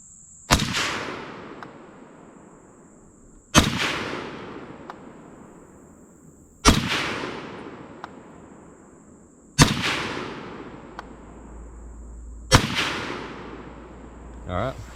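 A Fulton Armory M1 Carbine fires five shots at a range, each a sharp loud crack with a decaying echo, evenly spaced about three seconds apart.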